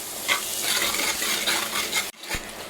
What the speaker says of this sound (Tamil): தக்காளியை போட்டுக்கலாம். நல்லா வதங்கட்டும்.